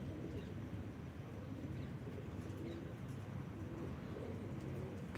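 Birds calling outdoors during a morning yoga session, soft cooing and faint chirps spread steadily through a broad outdoor hiss, distant and fairly quiet, with no talk.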